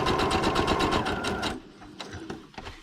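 A sewing machine stitches through paper with a rapid, even mechanical chatter for about a second and a half, then stops, leaving faint clicks and handling noises, close up and with no talk.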